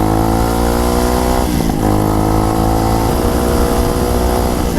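A 2021 Tao Motor TBR7 250 motorcycle ridden on the road, its single engine droning loud and close with steady throttle, small pitch dips as it shifts, and constant wind rush.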